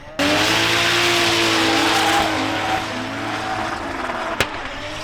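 Car engines roar steadily with tires squealing in a long, continuous skid at a drift championship, loud and fairly close, with a sharp knock near the end.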